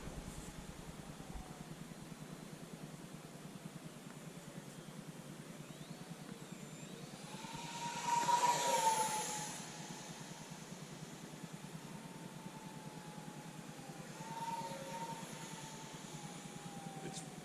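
Twin 40mm electric ducted fans on an XFly Su-57 RC model jet whine over a steady hiss, swelling to a louder rising-and-falling pass midway and a fainter one later, with voices talking faintly in the background.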